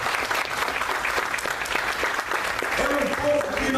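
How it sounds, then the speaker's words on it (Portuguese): A church congregation claps in sustained, dense applause, loud and steady throughout, while a preacher's voice carries over the clapping. "Aplauda o nome do Senhor Jesus."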